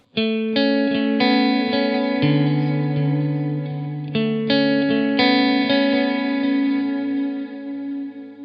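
Overdriven electric guitar plays a riff of sustained chords and single notes through a Marshall amp simulation with crunch and ambient echo, steady and fairly loud.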